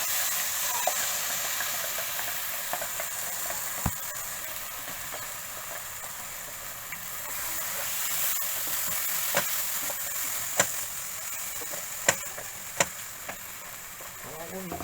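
Ground tomato and onion paste frying in a pan for instant sambar gives a soft, steady sizzle and hiss, close and fairly quiet, with a few sharp clicks of a spoon stirring against the pan.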